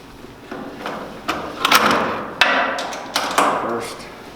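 Tightening the locking nuts on a cargo buckle strap holding a UTV to a trailer: a few sharp metallic knocks and clanks, close and fairly loud, spaced irregularly over several seconds with no talk.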